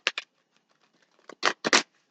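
Tarot cards being shuffled by hand, a few short crisp riffling bursts, close and fairly quiet, separated by near silence.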